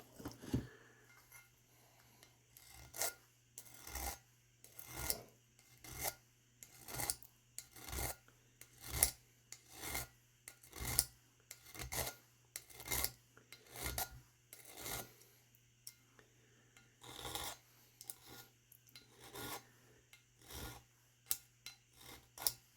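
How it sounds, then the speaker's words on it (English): Hand file rasping down metal that is too much to peen over, a quiet series of rhythmic back-and-forth strokes in steady bursts, close by with no talking. "that is a little too much to try to peen over, so we'll file her down"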